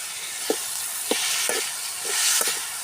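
Tomatoes sauté in a pan for pea kurma, giving a steady, close frying sizzle broken by a few sharp stirring clicks spaced about half a second apart.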